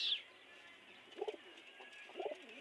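An old domestic pigeon gives two soft, low coos about a second apart, close by in a quiet room, with a faint chirp at the start.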